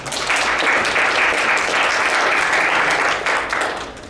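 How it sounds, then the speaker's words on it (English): A local podcasting panel audience gives the panelists a round of applause, a loud, dense, steady roar of many clapping hands that holds evenly for about three and a half seconds before tapering slightly. "let's give one more round of applause to our panelists"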